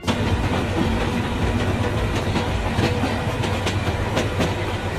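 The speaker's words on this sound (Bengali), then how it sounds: "এটি একটি বাংলাদেশি ট্রেন সিমুলেটর গেম।" Train running in a Bangladeshi train simulator video game, a steady loud rumble with rhythmic clickety-clack of wheels over rail joints, continuous throughout and not masked by any voices.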